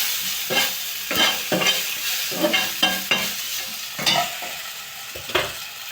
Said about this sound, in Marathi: आता एक वेळ मिक्स करून टाकू आपण